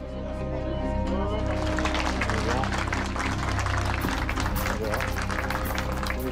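A crowd applauds as an injured victim is carried to an ambulance by Montélimar firefighters, a dense, continuous wash of clapping partly under a narrating voice and music.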